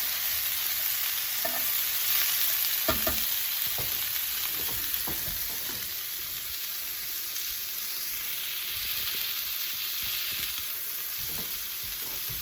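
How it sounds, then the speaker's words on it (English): Carrots and other vegetables sizzle in a hot pan for Mongolian beef, a loud, steady frying hiss close by, broken by a few scrapes and clatters as the food is stirred. "Do you hear it sizzling? I mean, carrots just need to be cooked a little bit more"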